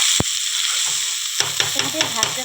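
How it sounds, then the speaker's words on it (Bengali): Soaked rice for basanti pulao fried in a pan over a low gas flame, a steady close sizzle that turns into rhythmic scraping and stirring with a few light clicks. "দিয়ে আমি চালটাকে ভালো করে একটু ভেজে নেব।"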